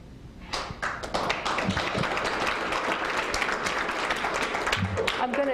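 Applause from a crowd at a League of Women Voters legislative briefing swells in after a brief quiet start and holds as a dense, steady wash of claps, with a voice talking over it.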